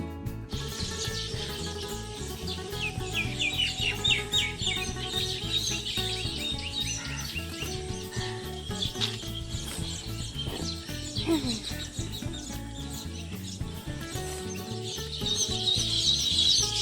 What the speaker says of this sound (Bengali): সকালবেলা পাখিগুলো কি সুন্দর আওয়াজ করছে শুনুন